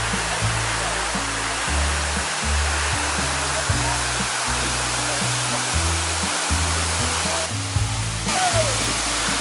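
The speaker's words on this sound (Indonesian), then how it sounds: "ada waterfall, air terjun." A waterfall at Gunung Lang recreation park in Ipoh, Perak gives a steady, loud broadband rush of falling water that fills the whole span without pause. Low tonal rumbling sits beneath the spray.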